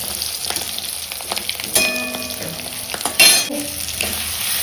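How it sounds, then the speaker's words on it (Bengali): Egg and potato pieces fry with spices in a pan, sizzling steadily with sharp stirring clanks and scrapes of a utensil against the metal. "ডিম আর আলু একসঙ্গে দিয়ে দিয়েছি, মশলার সঙ্গে ভালো করে কষিয়ে নিয়ে তারপর দিয়ে দেবো জল"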